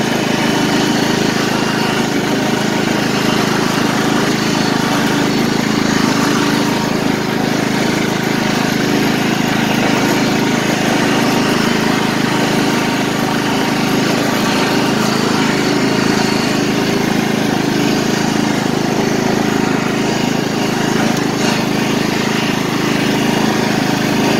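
A Scotts riding lawn mower engine runs at high revs, a loud, steady, close buzzing drone that continues without a break.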